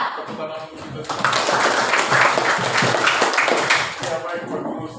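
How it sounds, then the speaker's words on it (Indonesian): A classroom of pupils claps together in a burst of steady applause that rises after a moment and then fades, with a voice speaking over the start and the end. "Tepuk tangan untuk kita semua"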